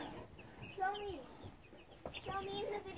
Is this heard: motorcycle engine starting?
no